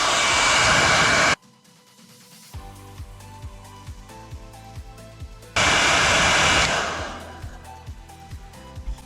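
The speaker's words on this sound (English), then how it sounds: "Make sure you grab your wife's blow dryer." A hair dryer on its hot setting blasts loudly, cuts off while some clattering and handling noises follow, then roars back on and gradually tapers down.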